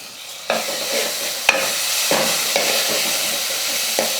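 Ground onion and garlic paste with asafoetida, curry leaves and turmeric sautéing in hot oil for a brinjal and field bean kuzhambu, a steady close sizzle broken by several sharp stirring scrapes and clinks.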